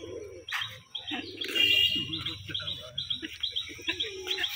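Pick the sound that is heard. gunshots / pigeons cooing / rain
pigeons cooing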